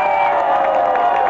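An audience at an awards ceremony applauding the winners, a dense continuous wash of clapping with some crowd noise, heard briefly and steadily.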